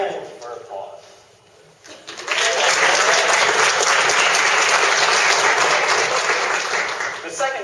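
An audience at a university variety show claps after a magic trick. After a quieter lead-in, a loud, sustained wall of dense applause swells and holds steadily for several seconds.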